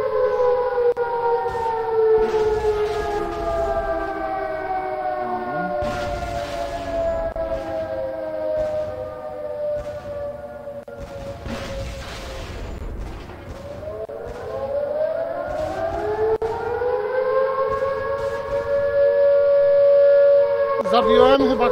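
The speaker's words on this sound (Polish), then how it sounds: "To syreny, nie?" Loud civil-defense-style sirens wail in the tank combat video game Project Tank, with long tones rising and falling in pitch over a steady game background.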